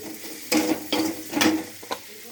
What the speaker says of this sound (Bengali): ধনের গুঁড়োটা দিয়ে একটু ভেজে নেব।